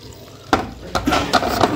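Water pours fast and hard while a front-load washing machine is serviced and cleaned at home, a steady splashing rush broken by several sharper gushes.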